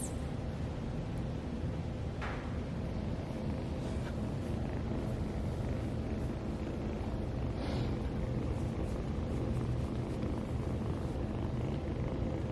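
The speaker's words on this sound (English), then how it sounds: "Purrs all the time." Steady soft purring from a small rescued kitten held close, a continuous low rumble running unbroken throughout with no speech.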